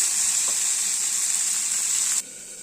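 Okra, or ladyfinger, frying in a pan, a loud, steady close-up hiss and sizzle that stays constant before suddenly dropping lower near the end.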